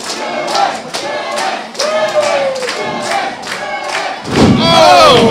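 A loud pro wrestling crowd at a Pure Pro Wrestling match roars and chants in rhythmic bursts, with shouts and a surge of cheering building toward the end.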